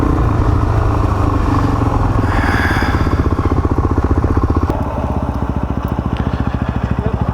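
A Suzuki DR dual-sport motorcycle rides a dirt track in Cape York, its single-cylinder engine thumping loudly and steadily close to the rider with a rapid, even pulse and wind rush throughout.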